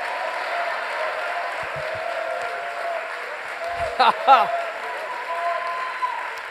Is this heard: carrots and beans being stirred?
no